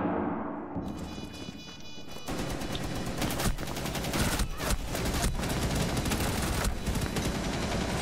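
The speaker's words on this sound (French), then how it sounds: "T'as tiré sur les fesses de Cade là?" Gunfire in the video game Rainbow Six Siege: loud, sustained rapid automatic shooting that runs almost continuously for several seconds at close range.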